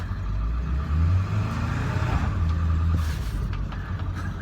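A 2001 Ford F250 pickup truck driving in four-wheel low, its engine a low steady rumble up close with some higher mechanical whine and a brief rattle near the end; no one speaks.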